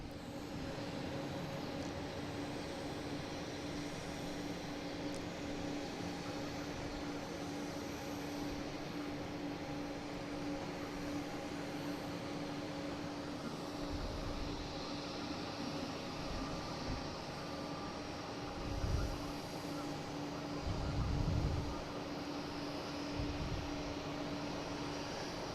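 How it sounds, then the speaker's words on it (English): Steady, distant rumble of airliners idling on the taxiway at Boston Logan airport with about fifteen planes queued for departure, a continuous low drone with a couple of brief swells near the end. "We got about 15 planes out here lined up, ready to head out of here."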